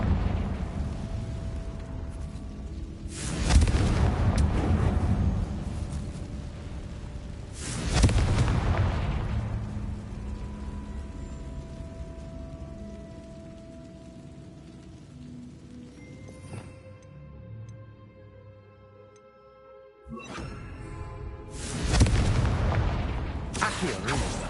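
Loud spell blasts from the Confringo curse in Hogwarts Legacy, set in a tomb: three or four booming explosive bursts spaced several seconds apart, each trailing into a rumbling decay.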